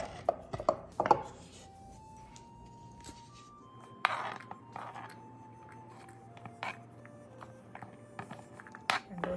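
A knife slicing jalapeños into rounds on a board for pickling: sharp, irregular chops and clicks, some in quick bursts and others spaced out, fairly quiet and close, with no talk.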